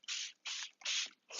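Press wash sprayed from a hand bottle onto a screen printing screen in three full bursts and the start of a fourth, evenly spaced hissing pumps with short silent gaps between them.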